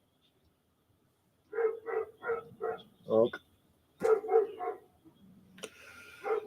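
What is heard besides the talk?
dog barking outside an open window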